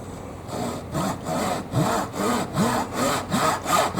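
A Japanese pull saw, a 24 TPI razor back saw, cuts through a large piece of wood in steady rhythmic strokes, about seven rasping pulls with brief pauses, close and clear with no talking.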